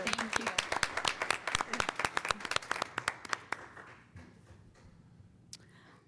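A small group at a public library board of trustees meeting claps for honorees, a brisk run of sharp close handclaps that thins out and stops after about four seconds, leaving quiet room noise and one stray clap.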